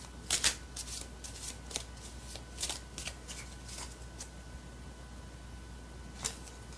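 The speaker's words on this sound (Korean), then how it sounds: "1번 여러분들에게 조언해 줄 카드를 뽑아보도록 할게요" Tarot cards shuffled by hand at close range, a run of soft riffling and flicking bursts, then a pause and one last quick shuffle, faint and quiet.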